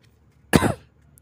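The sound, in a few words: cough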